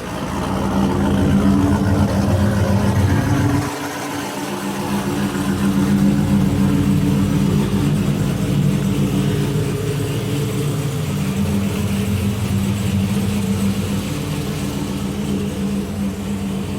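An old car's engine idles steadily while warming up, a continuous low rumble close by with no talking over it.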